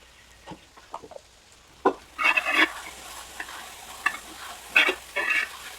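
Onions sauté with salt and turmeric in a pan for a beef fry dish, moderate sizzling broken by irregular scraping and clattering bursts of stirring.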